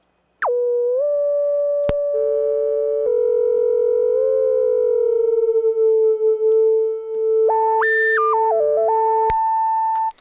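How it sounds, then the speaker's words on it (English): A restored Minimoog synthesizer's filter self-oscillates into steady, pure sine-like tones that hold for seconds, then jump in pitch and step through a quick sequence of changing notes before settling again, loud and alone. "We'll bring in this filter so it'll self-oscillate here."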